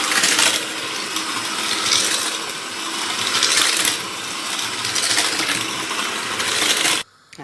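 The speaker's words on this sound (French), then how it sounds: "Et là, je vais battre le tout avec le batteur." An electric hand mixer beats batter for economical dry cookies in a loud, continuous whirring rattle close up for about seven seconds, then cuts off abruptly.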